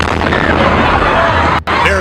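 A loud, sustained roar of an explosion fills the whole stretch, dense and rumbling, cutting out abruptly for a moment near the end before resuming.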